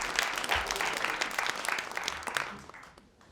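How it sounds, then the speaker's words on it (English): Audience applause greets a storyteller taking the stage at a StorySLAM night, a dense burst of many hands clapping close and steady before tapering off near the end. "let's give it up for Danielle. She's ready to tell her story. Round of applause."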